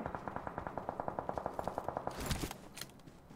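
Rapid automatic gunfire in the video game PUBG Mobile, around twenty evenly spaced shots in a quick rhythmic burst, then a louder, messier crack and a fading tail, with no voices.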